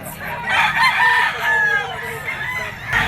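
A yellow-legged stag rooster lets out a long, wavering crow amid market bustle, the call close and clear over a low murmur of background chatter.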